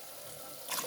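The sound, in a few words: pouring water into rice in a pot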